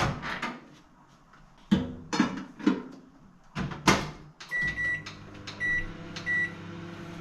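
A microwave oven heats fried rice with chicken in a kitchen, with door and handling clatter at first, then a steady hum and several short beeps near the end.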